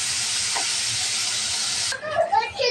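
Katla fish frying in oil in a pan gives off a loud, steady sizzling hiss that cuts off abruptly, followed by a voice speaking.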